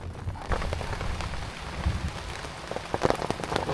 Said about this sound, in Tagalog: ngayon bumubuhos na naman yung ulan.